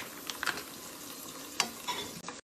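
Uncured bacon sizzles in a frying pan over medium-low heat, a steady crackling hiss with a few sharper pops and faint scraping, fairly close, no voices.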